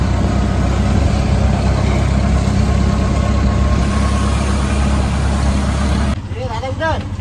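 A tempo auto-rickshaw's engine runs with a loud, steady, close rumble for most of the stretch, then the tone shifts near the end as a voice briefly speaks over it.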